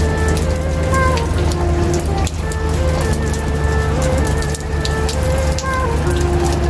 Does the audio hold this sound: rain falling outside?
yes